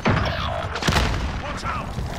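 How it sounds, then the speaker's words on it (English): A grenade goes off in Call of Duty Warzone with a brief heavy boom and a crackle of debris, loud and close, while a voice talks over it. "Throwing grenade."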